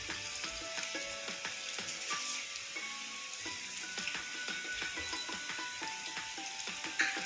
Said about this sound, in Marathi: तेल टाकलं ना लगेच त्याच्यात लसूण टाकते